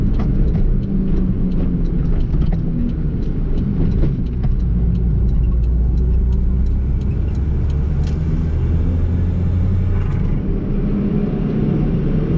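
A 1996 Toyota Starlet Glanza V (EP91) driving a lap, a loud steady engine drone and road rumble heard from inside the car, with small clicks and shifts in pitch as it moves, no talk.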